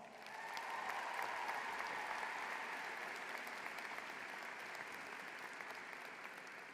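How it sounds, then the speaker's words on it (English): A large crowd at a George Mason University winter commencement ceremony gives a hearty round of applause, sustained dense clapping that swells in and holds steady, heard from a distance with no talking. "Let's thank all of them right now with a hearty round of applause"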